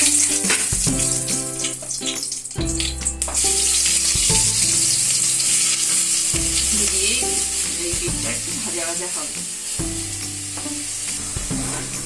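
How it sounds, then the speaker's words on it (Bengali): Grated beetroot frying in a pan for beetroot halwa, a bright steady sizzle with occasional stirring, heard beneath continuous background music. "এবার আমি বিটটা দিয়ে দিচ্ছি, গ্রেট করা বিট।"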